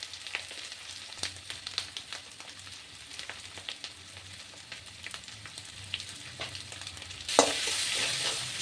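Spices sizzle in hot oil for a Bengali rohu fish curry after turmeric, chili powder and salt go in, giving a quiet steady crackle with light stirring clicks and a louder hiss burst near the end.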